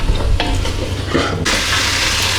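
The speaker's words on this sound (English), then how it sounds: "just coat that veg in the oil and tom yum paste" Vegetables and garlic cloves stirred and frying in oil with tom yum paste for a low-calorie soup, a steady close sizzle with scraping stirs that swells into a loud, continuous hiss for the final second.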